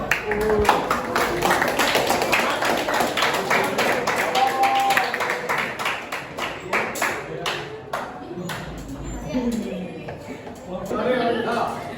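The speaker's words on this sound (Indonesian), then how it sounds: "beri tepuk tangan buat kelompok 3" Students in a classroom clap for a presenting group, a scattered run of close handclaps that thins out partway through, with talking mixed in and resuming afterward.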